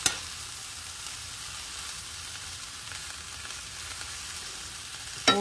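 Wild plant stems, burdock, nettle and dandelion, frying in a pan: a steady, soft hiss and crackle of sizzling oil continues evenly throughout, with a brief clatter of utensils at the start and end.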